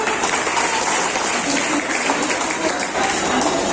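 An audience at an Islamic quiz held during an aqiqah celebration bursts into loud, continuous applause for a correct answer, dense clapping throughout with no speech over it.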